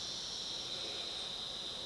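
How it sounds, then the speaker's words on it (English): Cicadas in a cicada emergence year, a continuous high-pitched buzzing drone, faint and steady, with no other sounds. "It is the year of the cicada."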